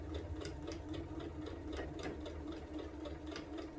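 A sewing machine stitches quilted placemat blocks together, a quiet, fast, even run of needle clatter close up, continuous and alone.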